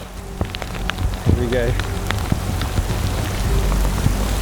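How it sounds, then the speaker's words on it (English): Rain falling on an outdoor lakeside hillside in the Lake District, a steady hiss of drops on surfaces throughout, with a brief spoken remark near the start. "that one looks like rain to me, and it's coming my way"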